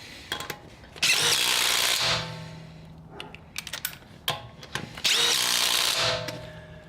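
Two loud, sustained bursts of a DeWalt XR DCF887 impact driver whining and rattling as screws are driven, separated by clicks and handling clatter in between.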